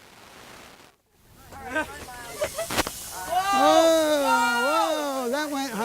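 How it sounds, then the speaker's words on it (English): Mentos dropped into a soda bottle fitted with a cap with a hole set off a broadband hissing eruption that surges and holds for several seconds, while excited voices shout and cheer loudly over it. "screw this onto your soda bottle and then drop the Mentos, and it will squirt through the hole"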